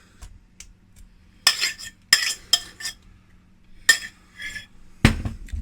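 Mashed bananas are mixed into cupcake batter in a bowl, heard as scattered clinks and scrapes of a utensil against the dish, irregular bursts separated by quiet pauses, close and alone.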